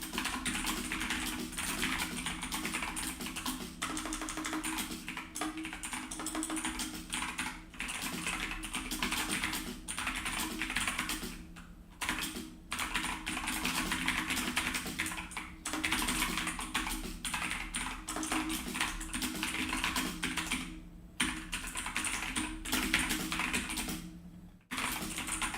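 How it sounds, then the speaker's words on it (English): Typing on a computer keyboard, quiet and distant, with soft continuous clicks blended into steady background noise for the whole stretch, with brief pauses. "Your keyboard is too quiet, can you put the mic closer to it?"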